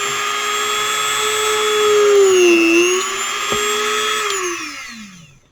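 A high, steady whine of a Dremel rotary tool drilling a hole up close, with a brief dip in pitch partway through before it winds down and stops.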